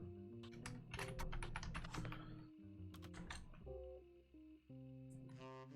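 Typing on a computer keyboard, rapid bursts of close, crisp key clicks with short pauses between runs, no talking.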